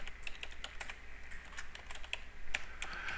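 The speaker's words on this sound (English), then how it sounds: "Now we'll type a password." A password being typed on a computer keyboard, a quick, fairly quiet run of key clicks heard close up with no talking.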